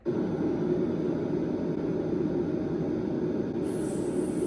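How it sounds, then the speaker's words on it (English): A constant low, rumbling rush of deep noise, steady and loud throughout, darker and heavier than a hiss, with no voices. "Now for brown noise, you ready for it?"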